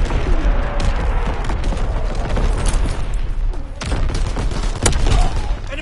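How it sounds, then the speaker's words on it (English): Incoming enemy artillery fire in a console video game, with a dense barrage of booms and blasts rolling continuously, some louder impacts standing out amid the sustained battle noise. "Incoming enemy artillery!"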